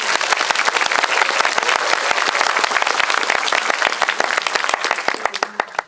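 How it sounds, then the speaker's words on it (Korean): Applause from the audience at a Korean film talk event with director Park Chan-wook and actor Park Hae-il, dense steady clapping that thins into a few scattered claps near the end. "박수 한번"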